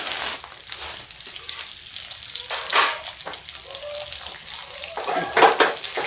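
Radish and chillies go into hot oil with a big spoonful of fennel over a low flame, crackling and sizzling in uneven bursts, with louder flare-ups near the middle and end.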